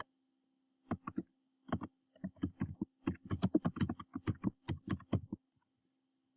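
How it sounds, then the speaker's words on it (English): Keys on a computer keyboard are tapped in several quick bursts of soft, close clicks, with short pauses between groups, in an otherwise quiet room. "typing in your name"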